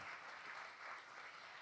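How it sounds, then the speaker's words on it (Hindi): A congregation applauds at a morning church service, a steady wash of clapping hands at fairly low level, sustained evenly through the short stretch with no voices on top. "लेट्स जोरदार तालियां बजाएंगे अगर आप कलाम समझ रहे हैं"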